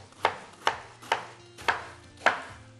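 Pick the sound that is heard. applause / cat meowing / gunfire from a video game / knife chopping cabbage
knife chopping cabbage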